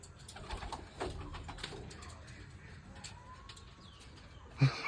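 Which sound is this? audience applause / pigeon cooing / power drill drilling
pigeon cooing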